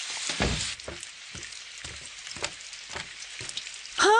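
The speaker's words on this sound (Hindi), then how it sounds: "अरे बारिश शुरू हो गई" Rain starts falling in a cartoon scene, a steady hiss of drops with soft irregular patters and splashes throughout, fairly quiet and with no talk.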